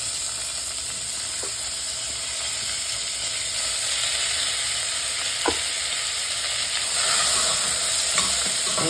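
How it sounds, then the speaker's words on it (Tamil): Chopped onions fry with whole spices in hot oil for mushroom biryani, giving a loud, continuous sizzle with a few sharp stirring scrapes and clicks. "வெங்காயம் நல்லா வதங்கணும்."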